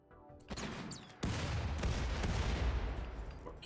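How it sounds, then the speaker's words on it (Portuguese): Rifle fire in the colony-building game Rimworld: bursts of shots crackle in the distance, then a dense, sustained volley from about a second in, with no talking over it. "Você atira nesse cara aqui que vai tentar vir na nossa direção."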